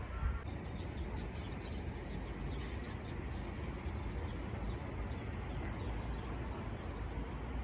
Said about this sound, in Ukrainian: Чуєте, як співають пташки?